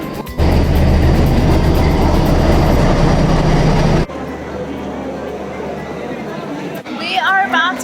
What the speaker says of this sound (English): We are about to board our train.